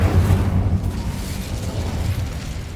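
Incendio fire spell cast in Hogwarts Legacy, a loud, close burst of fiery whoosh with a deep rumbling roar that holds steady for a few seconds, no voices.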